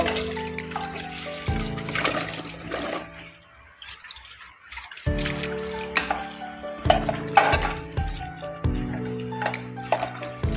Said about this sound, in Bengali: এখন আমি বেগুনগুলি কষিয়ে ভালো করে ধুয়ে নিচ্ছি।